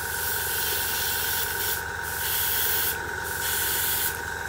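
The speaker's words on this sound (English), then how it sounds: "So let's have a look how it's going to spray." Paint spray gun spraying thinned paint onto a scale model aircraft, a steady close hiss with short pauses between passes.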